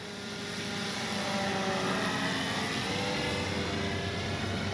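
CNHL Bison XT RC bush plane in flight on its maiden flight, its electric motor and propeller making a steady, even whine that swells slightly and holds. It is moderately loud and heard alone, with no talk.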